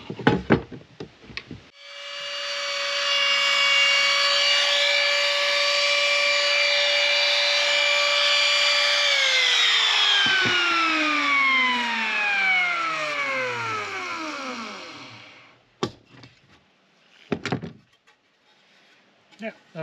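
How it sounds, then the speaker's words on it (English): A router cuts a quarter round edge on wood during a ruined-house renovation in Portugal: the motor spins up to a steady high whine, runs for several seconds, then winds down with a falling pitch, bracketed by a few close knocks and handling noises. "use the router bit"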